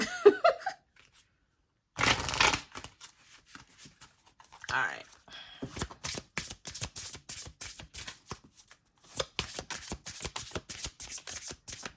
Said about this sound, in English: I just learned that I can bridge shuffle this deck